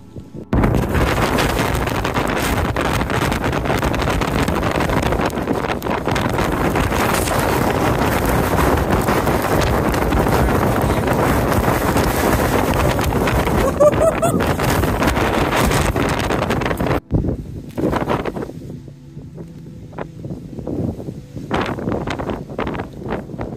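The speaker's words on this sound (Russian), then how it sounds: "О, это жесть, такой ветруган." Strong wind buffets the microphone during a wet hike up Mount Lafayette in New Hampshire. A loud, continuous rumbling roar lasts most of the time, then eases into gusty, quieter gaps near the end.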